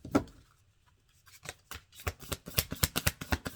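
A deck of oracle cards is shuffled by hand, quiet papery riffles and flicks starting sparse then quickening into a rapid run of crisp snaps, close and alone.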